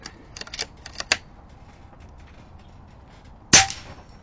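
An AirMaks Krait X air rifle fires a single sharp, close shot near the end, preceded by a few light mechanical clicks and handling taps.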